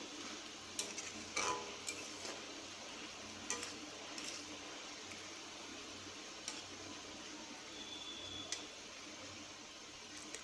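Red amaranth leaves (lal shak) cooking dry in a pan give off a faint, steady sizzle, with a few light ticks and clinks of a utensil against the pan scattered throughout.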